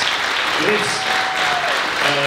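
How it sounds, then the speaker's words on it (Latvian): Audience applause at the Kandavnieks Dzied Maskā 2025 stage show, a loud steady wash of clapping throughout, with a host's voice speaking over it. "Aplausi, Grifs!"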